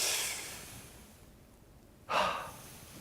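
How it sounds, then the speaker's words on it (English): Deep belly breathing in a quiet room: a long exhale fades out, a pause follows, then one sharp, fairly close breath in or out closes the clip. "Deep cleansing belly breaths."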